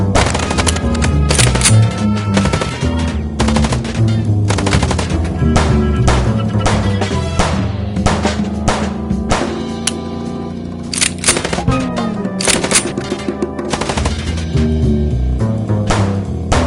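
Dense, loud rapid gunfire from the video game Chicken Police, continuous sharp repeated shots layered over a busy soundtrack throughout.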